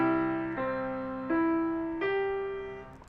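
A piano plays the first measure of a beginner hands-together exercise, both hands striking four sustained chords in a slow, even rhythm, each ringing on without talk.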